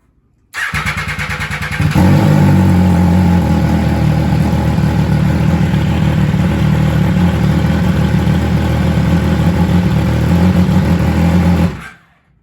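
A 2015 MV Agusta Brutale motorcycle engine, with new spark plug, air filter and battery, cranks and fires up, then settles into a steady, loud idle rumble that runs evenly for about ten seconds before cutting off.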